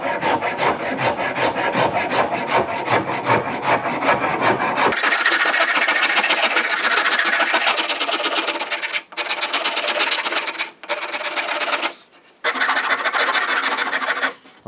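A hand rasp files wood in a workshop, first in quick rhythmic strokes, then in longer continuous scraping passes broken by a few short pauses, close and loud throughout.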